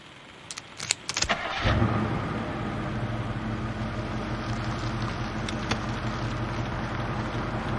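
A car drives at night on country roads with headlights on full beam, heading for the motorway. A few sharp clicks come first, then a steady loud engine and road rumble continues throughout.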